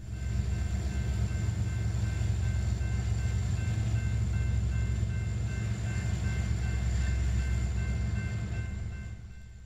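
A BNSF freight train led by a former BN locomotive rolls steadily past at close range near Springfield Yard, a continuous loud rumble of engine and wagons with steady high whining tones, fading slightly at the end.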